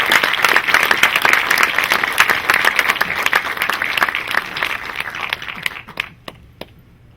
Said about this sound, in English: let's really bring a big round of applause to the people of